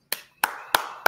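During a Chicago Bears show featuring former offensive tackle Keith Van Horne, four sharp hand claps ring out close by at a slow, even pace, each one crisp and isolated.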